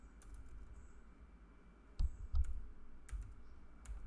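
Keystrokes on a computer keyboard during Java coding, a few sparse clicks and short bursts over a low steady room hum, fairly faint and close.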